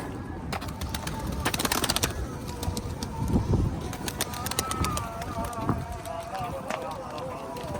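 Pigeons cooing and fluttering nearby with bursts of flapping wings, while people talk over the birds throughout.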